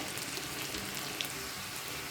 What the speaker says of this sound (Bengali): 3 টেবিল চামচ তেলের মধ্যে হাফ কাপ পেঁয়াজ দিয়ে দিয়েছি।